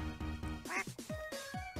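Minecraft ducks quack in a quick series of about half a dozen nasal calls with pitch sliding down, close and fairly loud with no talk.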